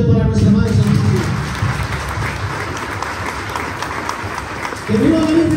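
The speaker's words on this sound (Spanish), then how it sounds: "Fuerte aplausote para nuestra Madre Santísima." A festival crowd at a celebration for the Virgin Mary gives loud, sustained applause, with voices mixed into the steady clapping throughout.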